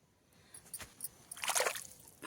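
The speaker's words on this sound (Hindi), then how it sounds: "यहाँ पे ज़मीन के नीचे से पानी निकल रहा है।" Water seeping up out of the ground after rain, with soft sloshing and squishing, intermittent splashy bursts that swell briefly toward the end, close and fairly quiet.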